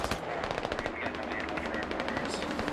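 Machine guns fire in a tank battle video game set in urban Narva, with rapid, continuous bursts of sharp shots rattling loud and close throughout, and a voice talking underneath.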